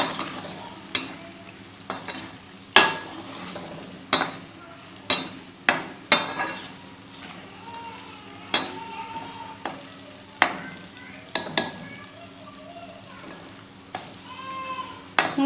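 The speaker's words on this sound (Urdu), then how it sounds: "ان کو ہم اچھے سے فرائی کریں گے۔" Carrots and cabbage stir-fried in a pan for Chinese rice, with repeated sharp scrapes and clanks of a spatula over a steady low sizzle, close and fairly loud, no talking.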